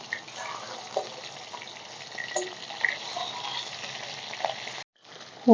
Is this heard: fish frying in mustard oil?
yes